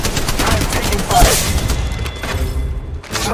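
Dense rattling gunfire during an Apex Legends Mobile squad fight, continuous close shots and impacts with a mechanical voice line layered over, briefly dropping before resuming.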